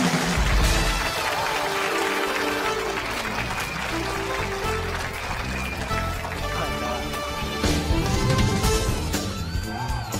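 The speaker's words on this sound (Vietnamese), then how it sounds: "xin quý vị cho chúng tôi một tràng pháo tay thật nồng nhiệt" Warm applause rises from the audience of a Vietnamese comedy talk show as a guest is welcomed, a broad wash of clapping that lasts about ten seconds under loud music.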